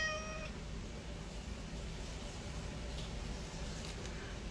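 A talkative shelter cat at a pet adoption event gives one short, clear meow at the very start, followed by a steady background hum and room noise.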